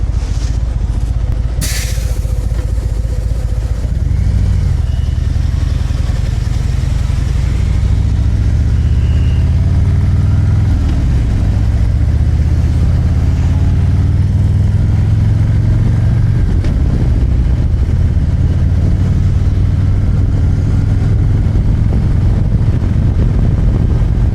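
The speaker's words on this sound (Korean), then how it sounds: "오토바이 지나가면" A motorcycle engine hums steadily and swells as it passes nearby, with low rumbling throughout and no talking.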